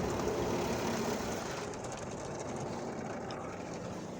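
Tire scrubbers run inside a PDQ Rite Touch tandem soft-touch automatic car wash in Canton, Texas, giving a steady, loud whirring rumble that eases slightly partway through.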